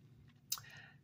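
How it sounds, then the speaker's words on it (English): A single sharp click from a flashlight's reverse clicky tail cap switch, likely on a Coast HX5 LED flashlight, heard once, close and quiet against a faint background hum. "reverse clicky tail cap switch"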